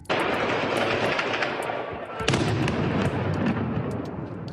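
Rapid bursts of automatic machine gun fire crackle continuously and loudly, shooting at drones, with a sharp volley near the middle, no voices.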